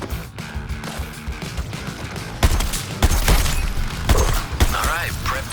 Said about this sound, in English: Focusing my fire as ordered, Deadshot.